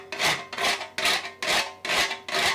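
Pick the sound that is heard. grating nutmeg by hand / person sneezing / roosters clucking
grating nutmeg by hand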